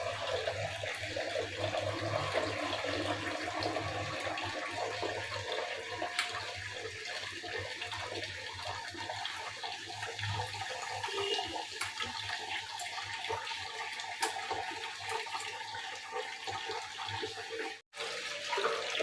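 Tap water runs steadily into a mug in a home kitchen while fish cooks nearby, a continuous close splashing stream lasting throughout with a brief cutoff near the end.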